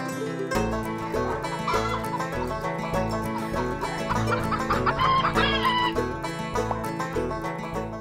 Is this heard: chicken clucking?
yes